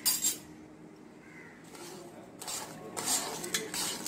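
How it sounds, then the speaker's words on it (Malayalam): Milk pudding with milk powder is stirred in a pan, with scraping, clinking utensil strokes that come in short bursts between quieter moments, fairly close. "നല്ലോണം ഇളക്കുക."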